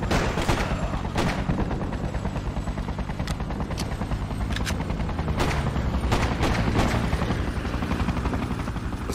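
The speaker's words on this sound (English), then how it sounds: "More soldiers! Shoot them!" Rapid bursts of gunfire aimed at soldiers in the video game Freedom Fighters, with sharp shots cracking over a constant loud rumble like a hovering helicopter. No one speaks.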